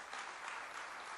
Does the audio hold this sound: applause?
yes